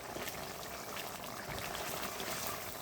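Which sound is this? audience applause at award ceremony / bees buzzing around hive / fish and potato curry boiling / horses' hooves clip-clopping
fish and potato curry boiling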